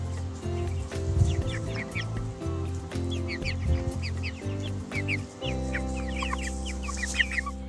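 Free-range chickens on a homestead cluck and murmur close by in a steady, overlapping chatter of short calls, with a low hum running beneath and no talking.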